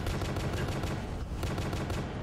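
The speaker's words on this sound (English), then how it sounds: "Oh, this is an automatic rifle. I'm over here shooting it" Rapid automatic rifle fire from a video game in a horror game about ponies, a dense continuous burst of loud shots with no talking over it.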